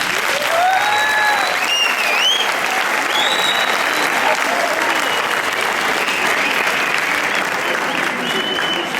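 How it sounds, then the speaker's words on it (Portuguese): A crowd applauds steadily and loudly throughout, dense clapping with a few whistles and cheers rising over it. "eu ia sugerir uma salva de palmas"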